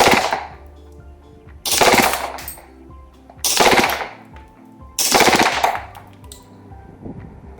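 An Army Armament R18 gas airsoft pistol fires four loud, rapid full-auto bursts up close, separated by short pauses.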